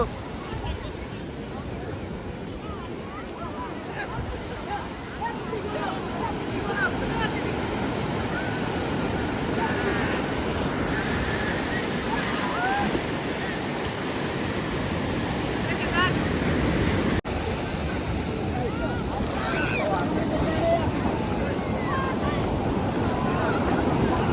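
Sea waves wash steadily onto the beach at Mahabalipuram, a continuous soft surf roar mixed with wind buffeting the microphone.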